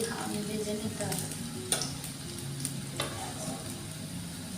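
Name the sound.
pakoras frying in oil on low heat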